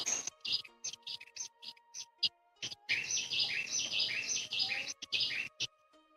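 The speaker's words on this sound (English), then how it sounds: "And then the birds." Birds chirping and tweeting in quick bright bursts, starting as sparse separated calls and turning into a dense, continuous chorus of overlapping song midway, fairly close and clear.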